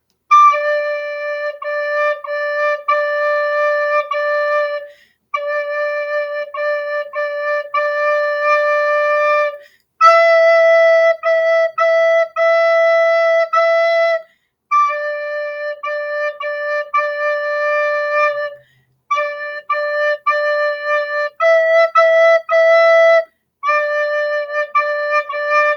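A soprano recorder plays a slow part-two line in clear, pure held notes, phrase after phrase with short breaths between them, close and solo.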